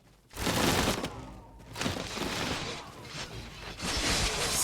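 Industrial-era units open fire in the strategy game Humankind, with loud volleys of gunfire crackling in several overlapping bursts.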